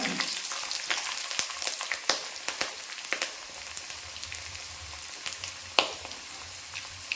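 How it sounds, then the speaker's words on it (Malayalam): Curry leaves, dried red chilies and ginger frying in sesame oil for tomato pickle, a steady crackling sizzle with scattered sharp pops and spatters, close and continuous with no voices. "കടു പൊട്ടി നമുക്ക് അതിലേക്ക് കറിവേപ്പില ഇട്ട് കൊടുക്കാം വറ്റൽമുളക് ഇട്ട് കൊടുക്കാം പിന്നെ ഇഞ്ചി ഇട്ട് കൊടുക്കാം"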